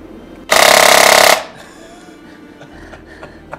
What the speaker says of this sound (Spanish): Disparas en automático, esto hace muchas veces.